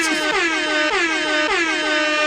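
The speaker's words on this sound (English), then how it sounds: "Air horn. Hold up. Air horn." A loud air horn sound effect on a podcast blares in repeated descending blasts, about four falling horn calls in quick succession, brash and close, with no talk over it.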